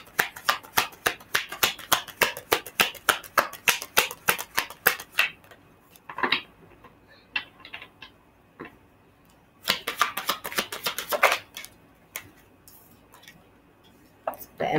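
Tarot cards are shuffled in quick, crisp bursts of rapid riffling and slapping, with pauses and single card snaps between the flurries, close and fairly loud.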